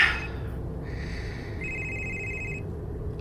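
A cellphone rings with a faint electronic tone in a quiet room, starting softly and then holding a steady tone for about a second.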